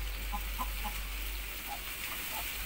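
Soft, scattered clucking from a few hens, including a fussy mother hen, over a low background hum, faint and irregular.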